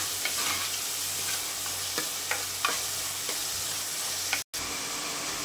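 Chopped vegetables and tomatoes fry in a pan, giving a continuous close sizzle broken by a few soft stirring scrapes and one brief dropout, with no talk.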